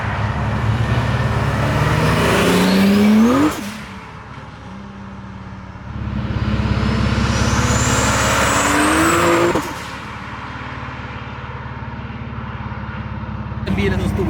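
A sleeper BMW fitted with a Mercedes engine revs hard in two loud, rising bursts that fall away, heard outdoors with a person speaking over the engine.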